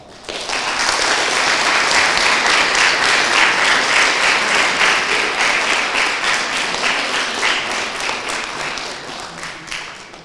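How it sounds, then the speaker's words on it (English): Sustained applause from the audience at an Optimist Club oratorical contest: many hands clapping in a dense, loud wash that swells quickly, holds for about ten seconds, then begins to thin out. "Now, we can applaud."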